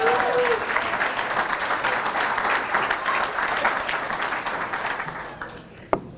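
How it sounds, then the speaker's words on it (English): An audience at an evening chamber of commerce award event claps together, a sustained round of applause with a few voices underneath that fades toward the end, where a single sharp knock sounds. "Applaud yourselves for coming here."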